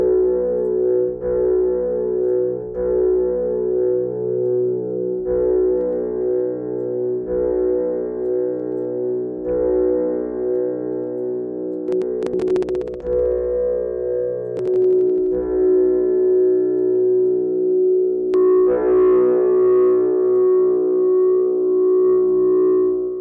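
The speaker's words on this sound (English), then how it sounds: "So you can hear a valve filter." Soundiron Amibus Prime software synth played through a valve filter: sustained, buzzy harmonic chords that shift in steps, with a brief swept, gritty burst midway and a brighter chord near the end.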